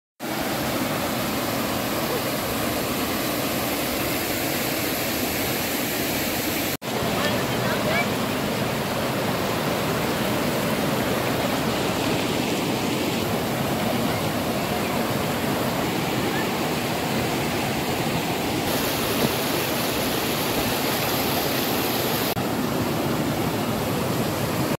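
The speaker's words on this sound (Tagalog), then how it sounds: "Napakaganda ng Panas Falls." Panas Falls waterfall roars in a dense, steady rush of falling water, loud and close throughout; speech is likely mixed in underneath.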